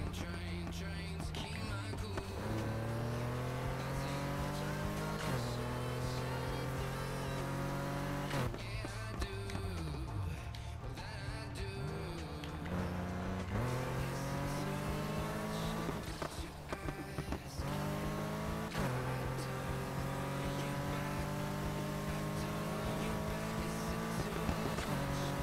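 A BMW E46 M3 tuned to 698 horsepower roars through repeated gear changes in the racing game Need for Speed Heat, its engine note climbing and dropping in steady loud sweeps with brief tire squeals.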